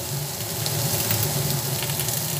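Eggplant frying in a pan with three green chillies added, a steady broad sizzle and crackle running close and continuous throughout.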